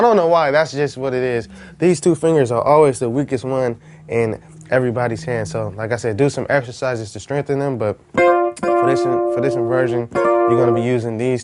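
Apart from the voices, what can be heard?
No everyday noises stand out.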